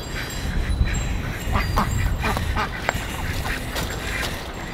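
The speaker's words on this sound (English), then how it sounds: "we'll have to chase the ducks out of the area." Several ducks quack near a pond where they have gathered to drink, the calls scattered and fairly close over steady outdoor background noise.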